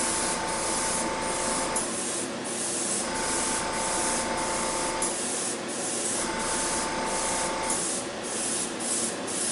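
Steady hiss of a paint spray gun at about 15 psi air pressure, running continuously in bursts with brief dips, close and fairly loud, no talking.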